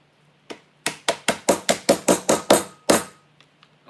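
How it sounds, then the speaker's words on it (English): A rolling pin strikes a bag of edible crystals for a geode cake in about ten sharp, evenly spaced whacks, loud and close, then a few faint taps, with no speech. "And then I'm going to hit it with a rolling pin because I have that in front of me."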